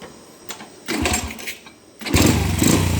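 A Honda Wave 100 motorcycle fitted with a converted 125 ignition box is kicked over in a few short cranking attempts, then fires and settles into a loud, close, buzzing idle.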